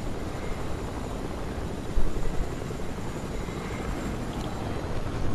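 Plane engine in the Fortnite video game, a steady broadband droning roar that holds level throughout with a brief louder swell midway, no talk over it.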